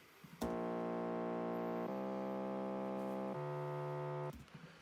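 A Serum bass line built from an init preset with saw and square waves sustains three long, buzzy, harmonically rich notes in an EDM pop track. It plays alone at moderate level.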